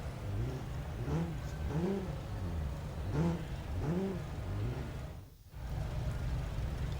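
A Honda Civic Type-R engine in Real Racing 3 revs in repeated rising sweeps at a race start, loud and close, briefly dropping out before resuming.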